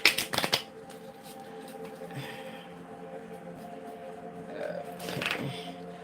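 Small tarot cards being shuffled up close, a quick riffling burst at the start, then quieter soft card rustling and a second riffle near the end, with faint talk in the background.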